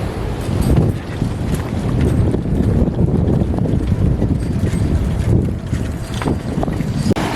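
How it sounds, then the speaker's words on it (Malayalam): Sea waves roll and break at Azheekal beach, a dense, loud, continuous wash with gusty rumbling surges and no voices. "ഇവിടുന്ന് കടലിലെ തിരമാല അടിക്കുന്നുണ്ട്"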